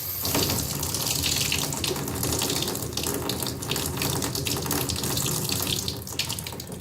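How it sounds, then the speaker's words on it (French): Water swirling out of a kitchen tap fitted with a vortex device, steady close rushing and splashing flow into a sink, continuous with no speech. "Elle vrille en sortant du robinet"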